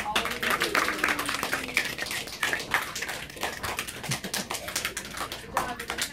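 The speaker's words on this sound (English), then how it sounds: "extra round of applause for all of you" Children and parents at a first grade ceremony applaud, a scattered patter of clapping at moderate distance that rises and thins across the moment, with faint background murmur.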